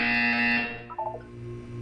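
A loud electronic buzzer from the video game Portal 2 sounds once, a harsh, steady tone that cuts off after about half a second and is followed by a few soft, faint electronic blips.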